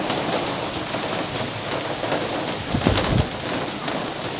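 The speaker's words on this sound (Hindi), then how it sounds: "बारिश हो रही है" Steady rain falling past a balcony with a broad hiss, joined by a few louder spatters and drips near the middle, and bird calls in the background.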